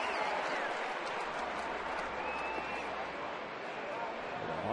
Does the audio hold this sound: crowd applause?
yes